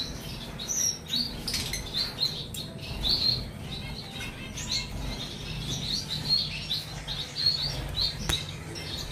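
Diamond sparrows and other small pet birds in a home aviary give many high, quick chirps and tweets, with scattered wing flutters and soft rustling, moderately close and without talk.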